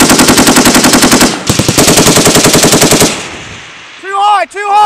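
A machine gun fires a long, very loud, close burst of rapid, evenly spaced shots during military weapons training, ending abruptly, followed by a short shouted voice.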